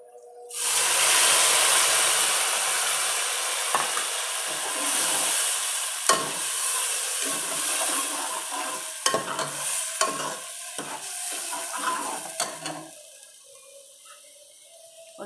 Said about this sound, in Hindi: अब हम इसमें डालेंगे टमाटर और अदरक लहसुन का पेस्ट